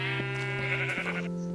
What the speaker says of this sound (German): Hier haben wir Schafe. Gefärbte Schafe.